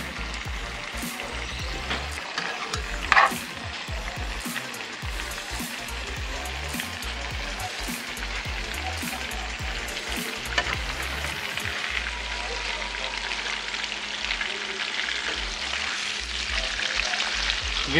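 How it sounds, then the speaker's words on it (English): Steak searing in a hot pan with garlic gives a continuous, even sizzle throughout, with occasional brief clicks from the pan. "You're going to want to lift the steak up and sear those sides."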